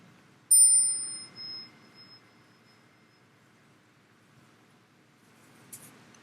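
A small meditation bell is struck once in a quiet hall, a clear bright ring that sustains and slowly fades, followed by a faint second tap near the end.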